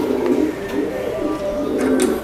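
Racing pigeon cooing in soft repeated low calls, close by, with faint background noise and no speech.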